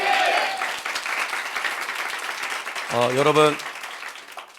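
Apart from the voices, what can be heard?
church congregation applause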